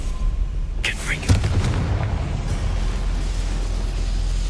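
A Confringo fire spell explodes in Hogwarts Legacy: a sharp burst followed by a loud, sustained rumbling boom that fills the clip.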